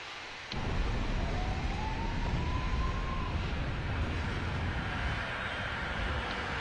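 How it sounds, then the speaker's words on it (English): A siren wails through the cockpit of an American Airlines 767-223ER during a night landing at Seattle/Tacoma, its rising tone carried steadily over loud, constant engine and wind roar. "I don't know why sirens went off there."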